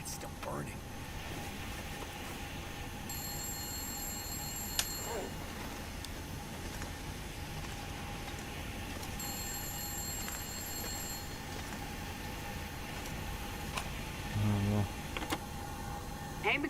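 A telephone rings in the video game The Long Dark, two separate ringing bursts sounding over a constant loud wind-like roar, with a voice speaking now and then.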